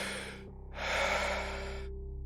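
The living hospital breathing in the horror game radio.Signal, a faint breathy exhale followed by a longer, louder hissing breath, heard alone over a low hum.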